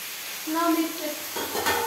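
Pasta with onions stirred in a pan, a short scraping and sizzling stir that rises after a quiet start, with a tonal squeak partway through.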